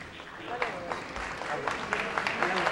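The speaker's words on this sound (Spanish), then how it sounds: "despedimos con un fuerte aplauso a las banderas de ceremonia" Audience applause in a boxing arena as the ceremonial flags are sent off before a WBO world lightweight title bout, steady broadband clapping with crowd noise and a voice talking over it.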